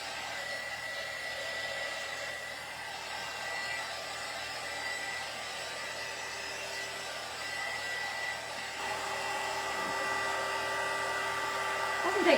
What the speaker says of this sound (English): This heat gun gets a little bit hotter, so I'm using this one so it's a little quicker tonight.